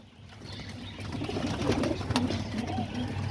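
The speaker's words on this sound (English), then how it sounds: "sounded like a baby pigeon, you know? Like still chipping like a baby pigeon." Young pigeons coo in a low, soft, repeated murmur close by, swelling slightly after the first second and continuing steadily, with faint background noise and no talk.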